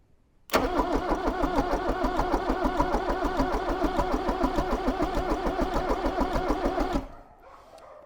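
A Range Rover Classic fitted with a 2.5 VM diesel engine cranks on the starter in a fast, even, rhythmic churn for about six seconds, close and loud, then stops without catching.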